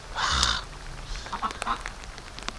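Duck quacking inside an egg hatcher holding duck and goose eggs, one loud harsh call near the start followed by fainter scattered calls and rustling.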